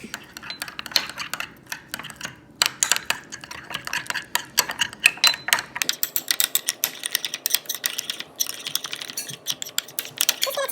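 Ingredients being mixed with pepper flakes for a crispy coconut shrimp recipe, a string of quick, clicking taps and scrapes, close and fairly sharp, without any talking.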